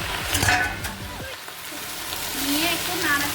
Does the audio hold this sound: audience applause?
no